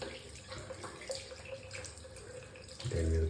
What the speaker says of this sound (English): Rinse my fingers,